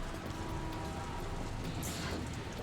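Steady rain from the video game Metal Gear, a soft continuous hiss of falling drops running unbroken and fairly quiet throughout, with no voices over it.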